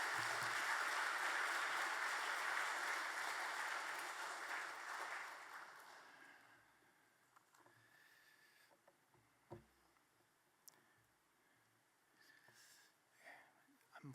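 Church congregation giving loud applause to welcome a missionary; the clapping lasts several seconds, then fades into quiet room sounds with a few small noises.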